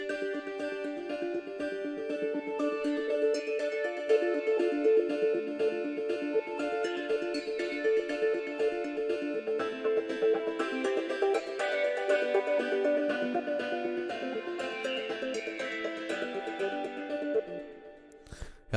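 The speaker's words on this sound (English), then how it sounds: "So yeah, cinematic guitars" Cinematic Guitars Motion plugin preset playing a sustained, layered guitar texture with shimmering repeated notes, steady and full throughout before fading out at the end.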